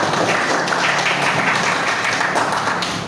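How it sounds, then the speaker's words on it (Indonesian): A classroom of students claps loudly on the teacher's cue, a thick, continuous burst of many hands close by that holds steady before easing slightly at the end. "Oke, tepuk tangan dulu besar-besar."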